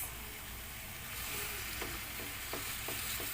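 Pork pieces for Filipino braised pork humba sizzle steadily in a hot pan, a continuous loud frying hiss with a few soft stirring scrapes, no talking.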